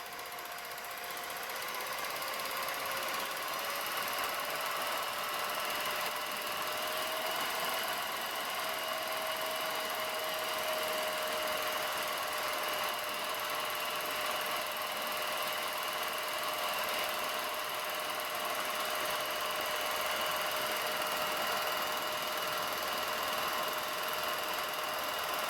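A Revere film projector runs continuously with a steady mechanical whir and hum, an even motor drone carrying a faint tonal whine that holds throughout without speech.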